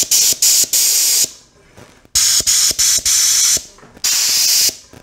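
An airbrush with its air nozzle removed blows loud hissing bursts of air in several separate blasts, some short and some a second long, with sharp clicks of the trigger between them.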